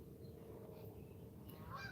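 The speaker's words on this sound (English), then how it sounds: "Sound like an angry goose coming in from somewhere." An angry goose honks from somewhere off in the distance at a carp fishing spot, faint calls rising at the end over a steady low outdoor rumble.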